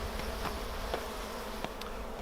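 Honeybees buzzing in an opened hive as smoke is applied, a dense steady hum that fills the whole stretch with individual bees flitting past close by, no talk.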